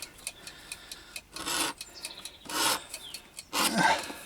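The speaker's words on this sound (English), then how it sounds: "I run these through my little buffing machine that I've made" A small homemade buffing machine burnishes the edges of a leather hatchet cover in three bursts of rubbing friction, each lasting about half a second, separated by quieter clicks and faint handling noise, close and loud.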